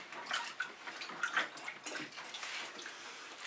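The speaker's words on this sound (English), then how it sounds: "I do need to rinse my fingers off." Tap water runs over rinsing fingers at a sink, a soft, fairly quiet splashing stream with uneven gurgles, steady for a few seconds and heard alone.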